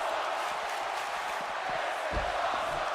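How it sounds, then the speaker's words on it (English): A wrestling event crowd cheers and roars in a steady wash of noise, distant and moderately loud throughout. "Crowd very pleased."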